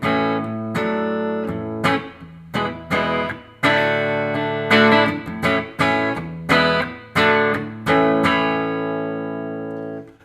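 Electric guitar played through the clean channel of a Fender Deluxe 112 amplifier: a sequence of strummed and picked chords with bright, ringing sustain and clear decays between strikes, heard alone with no talking.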